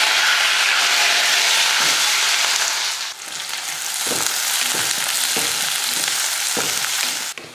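Shallots, garlic and curry leaves sizzle loudly in hot oil in a kadai, a steady dense hiss with a few soft stirring knocks in the second half, close and alone.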